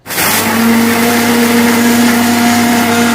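A steady, loud motorized whirring from a mixer grinder blending oats and lotus seed powder runs continuously, with a sustained hum and no pauses.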